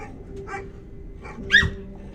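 A dog gives a few short, sharp barks and yips close by, spaced irregularly, with the loudest one near the end, over a quiet low background hum.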